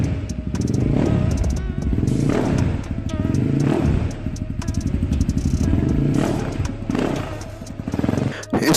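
A Crossx CX 250S dirt bike with a 250cc liquid-cooled single-cylinder engine runs close by, with steady loud idling and repeated revs that rise and fall, and occasional sharp mechanical clatter.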